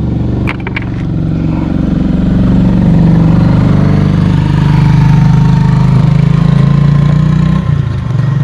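Tricycles and motorcycles passing on a road in the Philippines, a loud, steady engine drone close by with rattling clatter, rising slightly and holding for several seconds.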